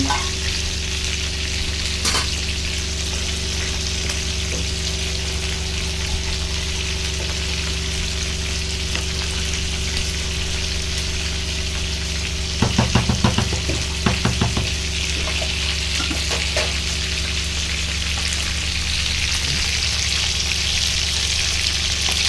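Chicken sizzling and frying steadily in a pan, a dense continuous hiss close by, with a few brief scraping stirs partway through.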